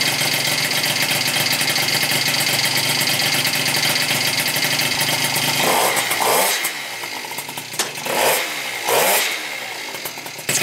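A 70cc Honda Zuma scooter engine fitted with a Polini Corsa cylinder and Yasuni exhaust runs loud and close with a raspy two-stroke buzz, steady at first, then dipping and surging in uneven throttle blips as the sticky throttle hangs.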